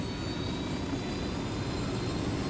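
Helicopter engine in the video game Ghost Recon Wildlands, a steady loud turbine whine and roar with a high-pitched tone, droning continuously and unchanging, with no talk.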